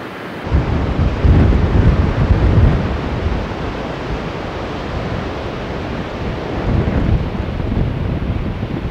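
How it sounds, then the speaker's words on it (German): Rain blown sideways by strong wind on a narrow, steep mountain road, a steady broadband roar with gusting swells, loud and close to the microphone, no voices. "Aber oh, der Regen kommt von der Seite, gepaart mit dem Wind."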